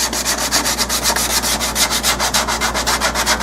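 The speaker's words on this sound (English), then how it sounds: "Now you finish up with some sandpaper here." Sandpaper of about 180 grit rubs over the braces of a Harmony H-165 acoustic guitar with steady back-and-forth strokes, making a close, loud, even rhythmic scratching with no talk.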